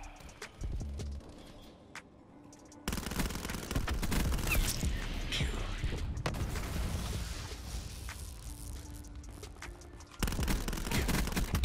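Gunfire rattles from a video game shooter in sustained rapid bursts, loud and close, with brief lulls and sharp restarts.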